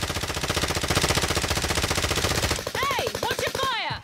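Rapid automatic gunfire rattles in a tight rhythmic burst inside a shooter video game, a long sustained string of shots followed by shorter scattered bursts and whooshing effects near the end, fairly loud and close.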